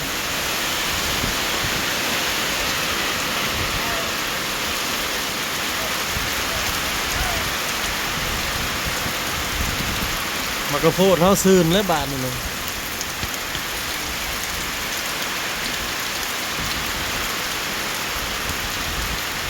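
Steady, dense rain pours down with a constant hiss, broken briefly midway by a short burst of a voice or animal call.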